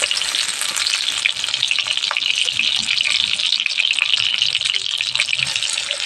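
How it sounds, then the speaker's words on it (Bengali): Pieces of ash gourd fry in hot mustard oil in a village kitchen, a close, continuous crackling sizzle that stays loud and even throughout. "ভালোভাবে চাল কুমড়োকে সর্ষের তেলে ভেজে নেবো"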